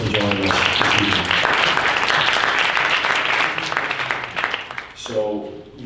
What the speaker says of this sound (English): Let's give them a round of applause for joining us this evening.